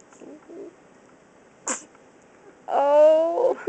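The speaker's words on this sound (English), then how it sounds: "Oh, did you sneeze?" A single short sneeze bursts out near the middle, faint and sudden, set among quiet room noise and a few soft vocal sounds, followed by a brief higher-pitched squeaky vocal sound at the end.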